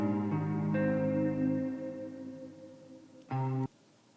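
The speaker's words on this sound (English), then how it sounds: "Some nice spacious reverb." Guitar loop in Ableton Live with a spacious reverb effect, sustained chords ringing out and decaying into a long wash, followed by a short, brighter strum near the end, soft and clean.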